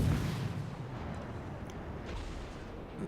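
Main battery guns of a warship firing in World of Warships: a deep, heavy boom at the start that fades into a long low rumble, heard alone.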